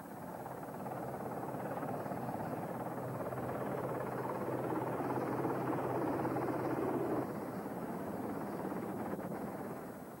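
Helicopters near a burning ship in San Carlos Bay during the 1982 Falklands War give a steady, moderately distant rotor drone that holds evenly for about ten seconds with no speech.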